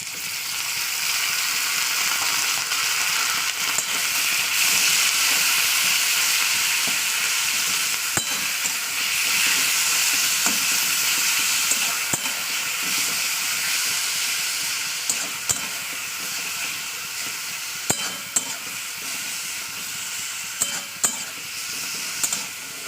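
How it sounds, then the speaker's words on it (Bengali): Cubed potato and pointed gourd fry in hot oil with onions, a steady loud sizzle and hiss running throughout, broken by occasional sharp clicks of a spatula stirring the pan. "আলু পটলটাকে ভালো করে তেলের সঙ্গে একটু ভাজা ভাজা করে দিলাম"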